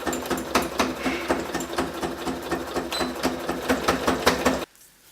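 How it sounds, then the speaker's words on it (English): A sewing machine zigzag-stitches along the edge of a trouser waistband, running in a fast rhythmic clatter of needle strokes for several seconds before stopping abruptly. "then I'm going to attach it and then I'm going to zigzag over that edge"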